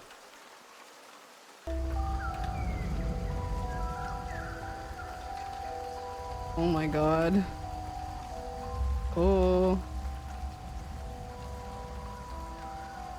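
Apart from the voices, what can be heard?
rain ambience sound played during live stream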